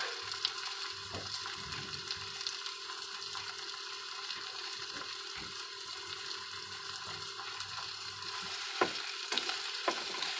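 Garlic sizzling in a pan with browning sausage and wilted vegetables, a steady close frying hiss broken by scraping stirs and a few clunks, no talking.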